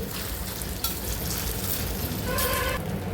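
Raw potato pieces fry steadily in a pan of oil on a sim flame, a dense continuous sizzle with a brief scrape of stirring and a faint clink, no voices.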